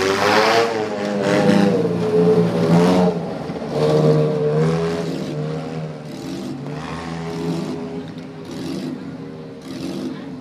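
Demolition derby cars at Upperco Motorsports rumble and rev as they roll around toward the start-finish line, a loud engine drone that swells and fades.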